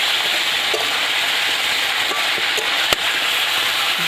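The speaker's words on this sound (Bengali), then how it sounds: "এবার উঠিয়ে একটু নেড়ে দিই" Papaya fish curry frying in a pan, a steady close hiss of sizzling oil with occasional soft scrapes as it is stirred.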